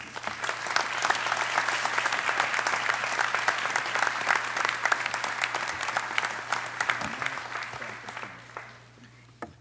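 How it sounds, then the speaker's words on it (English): Audience applause at a college commencement ceremony, steady sustained clapping from a large crowd that holds for several seconds and then tapers off at the end, with no talking over it. "At this time, I'd like to give a nice round of applause for Dr. William J. Murabito."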